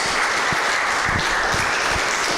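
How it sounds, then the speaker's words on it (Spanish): A church congregation claps steadily and loudly, giving thanks to God for the women, in a dense wash of applause that holds for a couple of seconds. "Y le dan un aplauso a Dios por las mujeres en esta hora."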